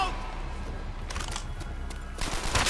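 Gunfire crackles in Call of Duty World at War as rapid, dense volleys of shots over a rumbling battlefield, ending in a louder burst close by.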